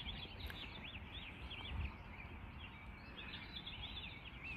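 Faint birdsong carries through the early-morning quiet at sunrise: small chirps and trilling calls, distant and soft against a low background hiss.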